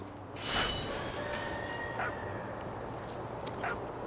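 A dog in the video game What Remains of Edith Finch gives a few faint, short barks and yips at intervals over a quiet, low ambient hum.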